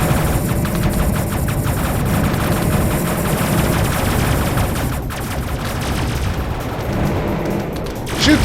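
Spaceship weapons in Endless Sky fire on a pirate planet in a dense, continuous barrage of rapid shots and booms, loud and sustained with a final burst at the end.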